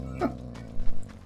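Dinki-Di the dog from the Mad Max game gives a few short, close barks and growly yelps, brief bursts over a low rumbling engine-like background hum.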